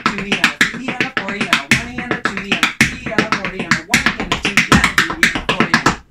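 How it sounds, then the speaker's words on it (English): Irish dance footwork of heels, brushes, steps, shuffles and digs on a hard floor, giving quick, loud, rhythmic taps in steady runs with short pauses between phrases. "Now this goes heel brush step step heel heel heel brush heel shuffle heel dig heel heel brush dig heel."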